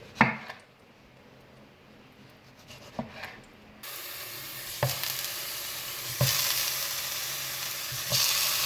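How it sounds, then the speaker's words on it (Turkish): Tomato rings for a chicken and eggplant supper fry in a pan, starting with soft sizzling and clinks, then a louder, continuous sizzle with sharp utensil knocks every second or two. "Şimdi domatesimizi kızartacağız."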